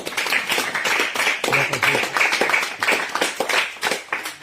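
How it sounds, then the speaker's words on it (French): A church congregation claps to acclaim the Lord during a seminar service, producing dense, rhythmic applause with some voices mixed in beneath the claps. "On acclame le Seigneur."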